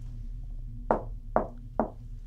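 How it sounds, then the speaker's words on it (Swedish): Three sharp knocks on a wall inside Borgvattnet rectory during a ghost hunt, evenly spaced about half a second apart, each crisp and close over a low steady hum. "Kan du knacka så här?"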